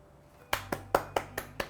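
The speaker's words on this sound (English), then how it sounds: "Pause for applause." A single person claps six sharp, close claps in a quick, slightly uneven rhythm after a short quiet stretch, with no voices over them.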